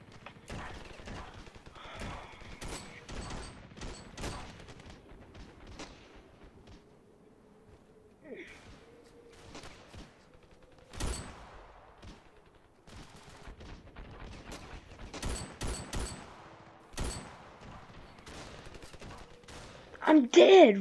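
Gunfire in the video game Ravenfield: scattered sharp shots and short bursts over about twenty seconds, some louder and closer, others faint, with a dense loud flurry at the very end.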